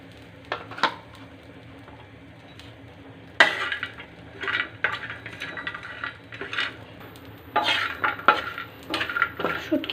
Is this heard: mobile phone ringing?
no